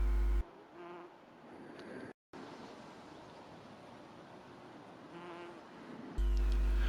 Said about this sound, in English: This very large leaf-cutting bee was a regular visitor.